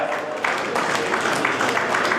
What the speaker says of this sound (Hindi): जोरदार तालियां बजाकर स्वागत करें श्वेता और माया